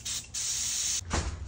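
Close, steady hiss of a Harbor Freight touch-up paint spray gun in several bursts separated by short breaks, the last burst mixed with a low thump.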